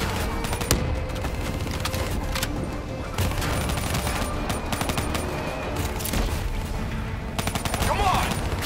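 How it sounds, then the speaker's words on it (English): Swarm launcher fire in Call of Duty: Black Ops 3, a dense burst of gunfire and explosions in a combat mission, with shouted voices over continuous battle noise. "Hit him with the swarm launcher."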